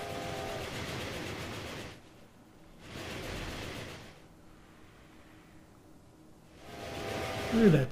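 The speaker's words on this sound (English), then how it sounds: "They keep waiting for the trains to come out of here." Trains running in the Railway Empire video game's Down Under scenario give three loud, broadband rumbling passes, each a couple of seconds long, separated by quieter lulls of low background hum.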